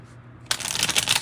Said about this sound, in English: Let me reshuffle that.